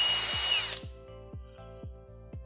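A Milwaukee M18 mid-torque impact wrench runs close up, a high whirring spin-up that drops into a rapid, even series of hammering impacts, with no talking.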